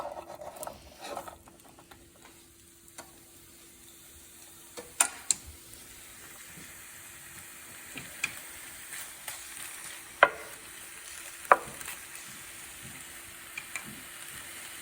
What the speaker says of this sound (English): I'm going to add the boneless beef and onions.